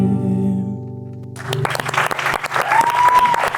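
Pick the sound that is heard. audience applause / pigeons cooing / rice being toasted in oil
audience applause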